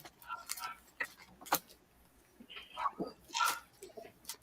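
A puppy barks and whimpers in short, sharp yips and whines, several bursts spaced irregularly and fairly close, with some talking mixed in.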